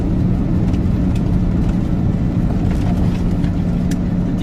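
A 1999 Lamborghini Diablo V12 growls deeply and loudly from close range, a dense steady rumble with a low hum and no talk.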